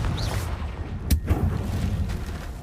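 The Confringo fire spell in Hogwarts Legacy lands as a single sharp crack followed by a short low thump over rumbling game background, moderately loud and heard without talk.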